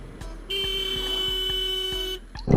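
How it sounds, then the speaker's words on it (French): A 125cc motorcycle horn gives one sustained, steady honk lasting under two seconds, with a buzzy, thin electric tone heard up close with no other sound. "Voilà, le bruit du klaxon."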